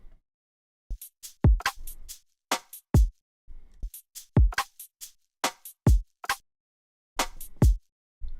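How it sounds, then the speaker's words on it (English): Dubstep drum pattern ends in a fill of punchy kicks and sharp snare and hat hits in a syncopated, stop-start rhythm, dry and close with silent gaps between bursts. "So for the end here, we'll do like a little fill."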